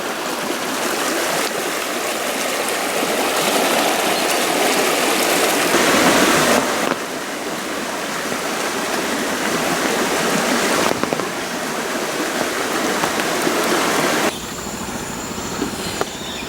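Rain-swollen stream rushing along a creek bed that is usually dry and weedy, a steady, loud broadband wash of flowing water close by, with a brief shift in tone partway through and no voices.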